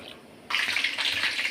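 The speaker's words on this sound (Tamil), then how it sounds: "இந்த பாகு ஊற்றி கிளறிட போகிறேன்." Hot sugar syrup poured into a pot of sweet pongal and stirred, a steady liquid pouring and sloshing that starts abruptly after a brief quiet moment and carries on close and fairly loud.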